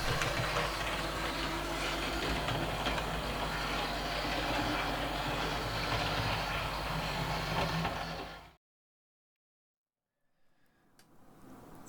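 A Märklin model electric locomotive runs with a steady, dense motor hum and rolling drone for about eight seconds, then cuts off abruptly into near silence before faint rustling returns.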